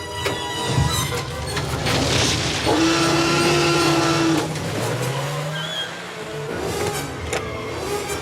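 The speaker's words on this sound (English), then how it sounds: "Start the engine." A car engine fires up and revs as the vehicle pulls away fast, with tire noise and a rising engine tone over a busy, loud action-scene background.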